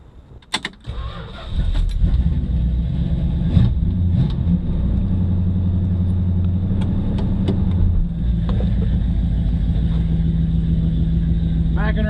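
A 1970 Dodge Coronet's V8 engine starts with a few clunks, then rumbles at a steady, loud idle close by for about ten seconds while the car is backed off a trailer.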